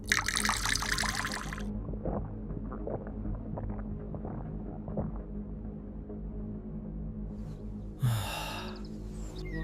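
Water is poured into a kamandal water pot, a splashing burst at the start, then a quieter stretch of soft trickling, and a second short pour near the end.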